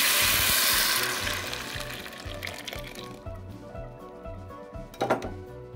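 Loud sizzling bursts out as blended tomato hits hot oil for a red salsa with chicken and nopales, fading over a few seconds into a quieter sputter, with a light knock near the end.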